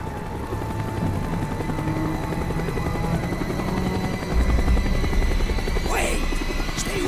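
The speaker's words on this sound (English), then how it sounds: "The chopper is coming around again." A helicopter in the Call of Duty Black Ops video game circles overhead with a steady loud rotor thrum and whine that swells slightly midway, constant throughout.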